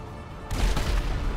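Gunfire during a bank robbery in the GTA 5 roleplay video game, a sudden loud burst of shots that starts partway through and keeps up as a dense, rumbling barrage.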